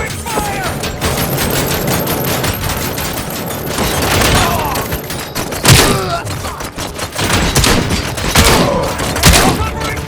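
Dense gunfire in the Robocop: Rogue City video game, with rapid bursts, heavy thumps and booms layered over one another, loud and close, while voices shout between shots.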